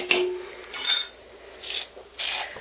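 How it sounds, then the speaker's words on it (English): A fork scrapes and rasps against a bowl, working wet ingredients and seasonings into chopped meat for meatballs, heard in three or four short scraping bursts, close and fairly quiet, with no talking. "now I need a fork to incorporate that"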